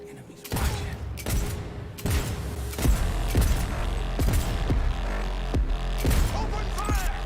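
Gunfire in the video game Cyberpunk 2077, a string of sharp loud shots spaced roughly every half second to second, with booming low-end thumps and a faint game voice under the volley.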